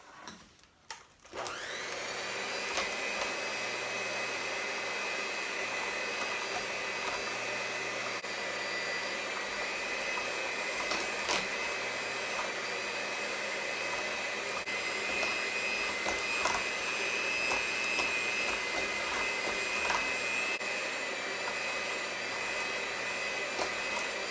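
Electric mixer whipping a strawberry shortcake mixture until fluffy, switching on after a brief handling noise and then running as a steady loud motor whine with a slight wobble, close by, with no talking.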